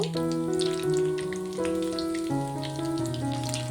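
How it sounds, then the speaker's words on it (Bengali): Bread pakoras crackle and sizzle in hot deep-frying oil, a dense spatter of popping bubbles over a held musical tone in the background, no voices. "আমার পকোড়াগুলো কিন্তু ভাজা হয়ে গেছে তুলে নেব"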